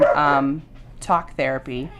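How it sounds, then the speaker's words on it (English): Several dogs in a home yap and bark in the background under a woman's speech, a few short excited barks and whines mixed with her talking. "my dogs are going crazy."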